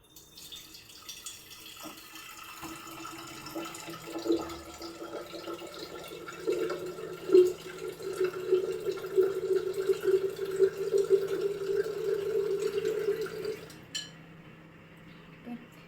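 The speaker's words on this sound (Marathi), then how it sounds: "तर याच्यामध्ये आता मी पाणी घेते." Water runs steadily from a tap into a glass jar for detox water, a sustained pouring stream close by that lasts several seconds before stopping, with faint kitchen clatter around it.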